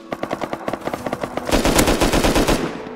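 MP5 gunfire in the video game Rust: rapid bursts of close, sharp shots in a quick rhythm, then a denser, louder volley of automatic fire.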